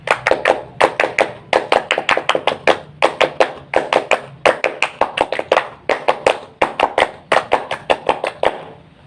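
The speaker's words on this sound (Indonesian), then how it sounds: "3 kali tepuk pramuka." Scout-style patterned clapping by a group, repeated three times: bursts of sharp hand claps in a set rhythm with short pauses between each pattern, close and clear with no talking.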